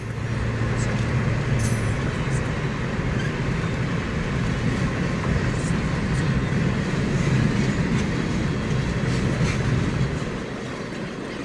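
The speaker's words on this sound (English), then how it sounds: "Trains are fascinating." A train passes a road crossing, a loud continuous rumble of rolling wheels and rail noise filling the whole stretch, with faint rhythmic clatter from the cars and no talking over it.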